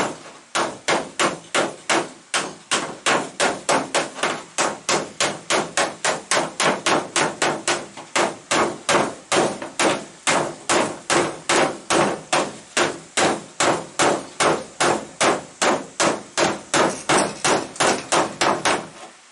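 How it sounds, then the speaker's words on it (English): An oversized hammer knocks out body metal on a 1965 Mercury Comet, striking repeatedly in a fast, steady rhythm, loud sharp clanging blows continuing without pause for the whole stretch. "This is really way too big a hammer for this."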